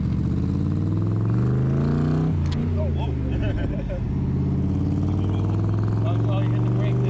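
A Cobra sports car drives with a loud, close engine drone that shifts in pitch as it revs, while people talk over it.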